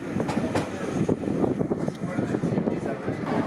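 Tenterden heritage train rolling along the rails, a loud rumbling clatter with repeated rhythmic clicks from the wheels and carriage noise throughout, heard from on board.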